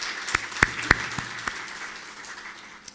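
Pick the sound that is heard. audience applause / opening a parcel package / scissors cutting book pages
audience applause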